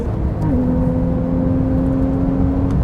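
A Porsche 911 Carrera GTS accelerates with a loud, steady engine drone and a clear rising engine note over heavy road and wind noise, heard from inside the car.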